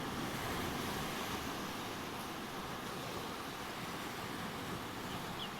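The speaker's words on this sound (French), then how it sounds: "je t'invite au son des vagues" Ocean waves wash steadily against the seashore, a continuous broadband roar of surf with some wind, loud and close with no voices.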